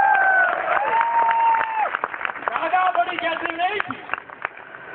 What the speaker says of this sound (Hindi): नितिन धीमान जी, जोरदार तालियां तो बनती हैं